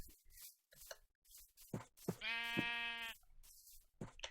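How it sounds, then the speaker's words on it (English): A single sheep in Minecraft lets out a clear, drawn-out bleat partway through, set among soft scattered footsteps and clicks, with nobody speaking. "Where are the other sheeps at? Here, sheepy."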